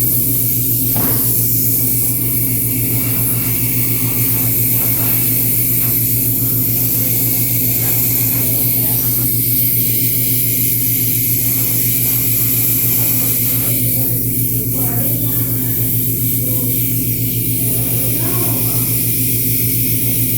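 An airbrush sprays thin paint in a steady, unbroken hiss, with a constant compressor hum underneath for the whole stretch and no voices.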